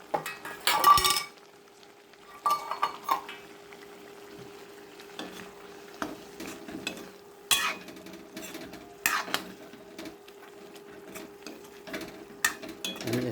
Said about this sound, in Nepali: यसरी हाम्रो मसला यसरी पाकिरहेको छ है